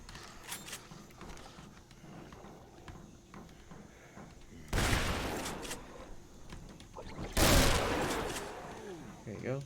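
Two heavy gunshot bursts ring out in Dead Island, each a loud blast trailing off over a second, spaced a few seconds apart amid quieter game ambience and faint background noises.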